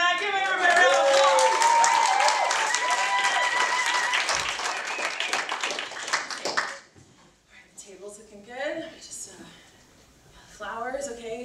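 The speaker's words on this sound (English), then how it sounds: "Give everybody a round of applause." A small group at a home family night claps and cheers for several seconds with voices mixed in, then the applause stops and scattered talking continues in a quieter room.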